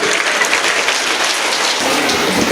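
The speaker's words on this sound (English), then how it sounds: "Big applause to them. Loudly, loudly." A crowd of children and adults applauds a prize winner at a school Children's Day celebration, a dense, loud, continuous wash of clapping that sounds almost like heavy rain, with no voices over it.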